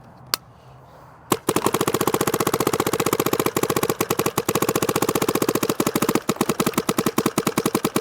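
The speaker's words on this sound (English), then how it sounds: "it is not easy to shoot a gun from the side" A Dye DSR Pro paintball marker fires a single shot, then a long, rapid, loud stream of pops in fast automatic rhythm, close by, with no voices over it.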